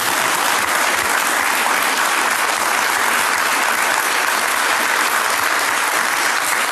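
A talk show audience applauds in a loud, dense, unbroken wave of clapping that holds steady from start to finish, with no voices standing out.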